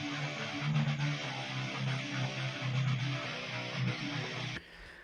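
A recreation of a guitar part, layered with the original guitar sound, plays a quiet, dense, distorted melody with rhythmic low notes. It breaks off abruptly near the end, leaving faint noise.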